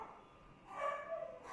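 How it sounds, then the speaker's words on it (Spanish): Dogs bark faintly in the distance, a few soft yips and barks over a quiet room background. "se oyen por allá mis perros que están gritando"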